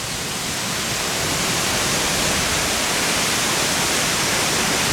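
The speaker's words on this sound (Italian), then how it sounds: "E chiudiamo con la cascata." Masare waterfall at Alleghe in the Dolomites, a steady, loud, broadband rush of falling water that fills the whole stretch without a break, with no voices.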